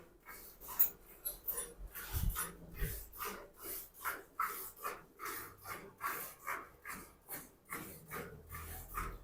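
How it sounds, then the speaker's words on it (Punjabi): A young puppy whimpers and pants in quick, rhythmic breaths, with soft snorts and occasional whines, close and fairly quiet. "ਵੇਖ ਲੈ ਕਿੰਨੀ ਵਧੀਆ ਕਤੂਰਾ ਆ ਗਿਆ"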